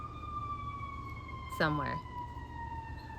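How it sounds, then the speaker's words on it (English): An ambulance siren sounds close by, a steady high wailing tone running throughout, while someone briefly speaks over it midway. "That ambulance is literally right here."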